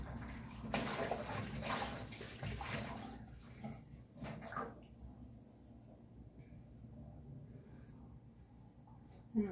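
Water running into a kitchen sink while dishes are washed, a steady splashing flow under clattering that quiets partway through, with a voice talking faintly in the background.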